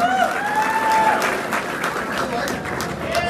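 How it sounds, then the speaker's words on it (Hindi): Spectators at a masters bodybuilding competition for 40 to 50 year olds clap in a steady crowd applause, with whistles and a voice over a loudspeaker heard through it. "आप इन सभी का तालियों से स्वागत करें।"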